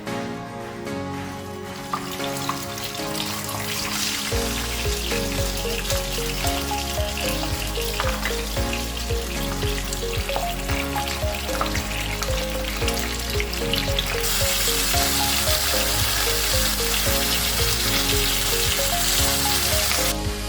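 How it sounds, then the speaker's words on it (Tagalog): Oil sizzles and crackles steadily as tilapia fries in a pan, a continuous hiss that grows brighter and louder toward the end. "Ayan guys, prito natin tilapia."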